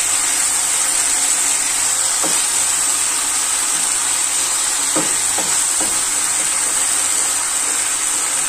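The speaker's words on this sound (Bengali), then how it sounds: "মশলাটা কষানো হয়ে গিয়েছে আর এর মধ্যে আমি মাছটা দিয়ে দিচ্ছি" Fish dropped into a pan of fried, cooked-down spice mixture sizzles with a loud, steady frying hiss throughout, broken by a few soft clatters as pieces are added.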